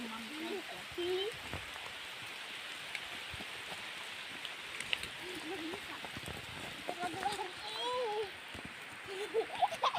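Rain falls steadily outdoors as children play in it, a constant hiss of drops on surfaces with children's voices and chatter rising over it and occasional nearby chickens.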